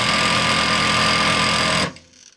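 An industrial high-speed sewing machine set to about 2,500 stitches per minute runs with a loud, steady, rapid mechanical buzz, then stops abruptly and falls silent.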